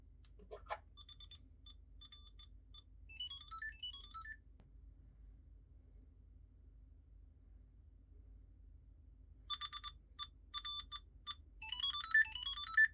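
A Samsung Galaxy SmartTag 2 item tracker plays its ringtone twice, first as a quieter burst of rising electronic chirps and beeps, then after a silent gap at a louder setting, with a faint hum underneath.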